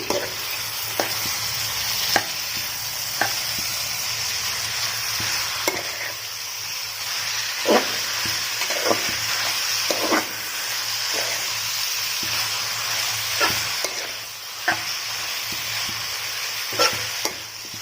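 Country chicken curry frying and sizzling in a pan while being stirred, with steady hiss and scattered scraping clicks from the utensil, close and alone.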